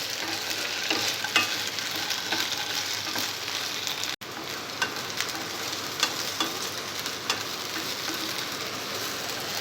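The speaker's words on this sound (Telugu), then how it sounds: "బెండకాయ ముక్కలకు ఉన్న జిగురు మొత్తం పోయేలా వీటిని బాగా ఫ్రై చేసుకోవాలి." Okra pieces fry in an oil-filled pan with a constant, close crackling sizzle and occasional scraping stirs, steady throughout with no voices.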